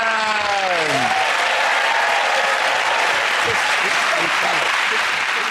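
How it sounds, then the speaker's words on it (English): A television comedy panel show's studio audience breaks into loud, sustained applause right after a brief voice at the start, the dense clapping filling the room until the end. "give that round of applause for the Chris, Hugh and Milton."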